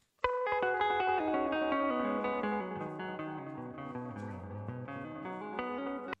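Slow electric guitar arpeggios ring out, heavily washed in reverb so the notes blur and sustain into one another.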